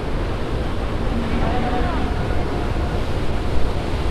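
Sea waves wash onto the beach near Teknaf in a dense, continuous roar mixed with wind buffeting the microphone, steady and close throughout.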